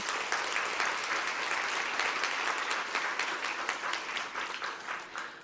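A conference audience at DBI2023 claps loudly and continuously, many hands blending into a bright, crackling wash with individual claps standing out, tapering slightly toward the end; no talking.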